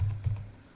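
Quiet typing on a computer keyboard, a few soft clicks in a short burst, close but faint.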